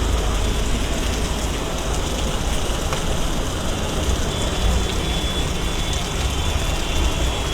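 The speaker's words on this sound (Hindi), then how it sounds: "बारिश जो है बड़े पैमाने पर यहाँ इस समय हो रही है" Heavy rain pours steadily in Jammu in a dense, unbroken hiss, loud and close, with no voices.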